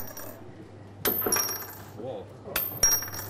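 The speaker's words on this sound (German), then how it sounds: "beim Quartern nimmt man die Münze und haut sie flach auf die Theke." A coin slapped flat onto a bar counter in the pub game Quartern, bouncing off into a glass: two sharp metallic clacks with brief ringing, close and loud over quiet room tone.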